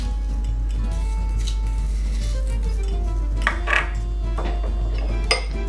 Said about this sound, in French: mixing the lemon juice with the mustard